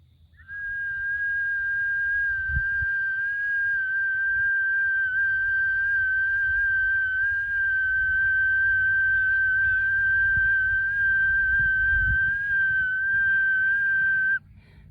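A whistle is blown in one long, steady, unbroken tone lasting about fourteen seconds, loud and close, with a low rumble beneath it.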